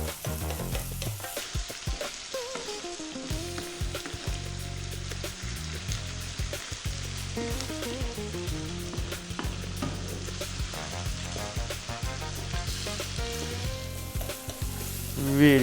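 Lamb pieces fry over fairly high heat, giving a loud continuous sizzle close up while a spoon stirs and scrapes them around the pan.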